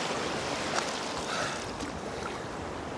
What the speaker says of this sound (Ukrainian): Хвилі дуже довгі, дуже гарні, воно так протягує